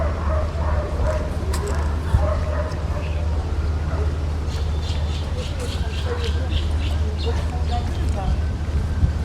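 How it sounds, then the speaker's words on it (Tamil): Dogs barking and yipping at a distance in Gulhane Park, Istanbul, scattered through a steady hum of outdoor crowd noise and traffic, with people talking nearby. "நாய் இங்கே நாயிட தொல்லைதாங்க முடியல."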